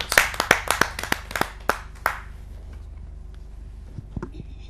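Scattered claps from a small audience at a kavi sammelan poetry gathering welcoming a poet: a quick run of sharp, distinct hand claps in the first two seconds, then fading to near quiet with a few faint taps.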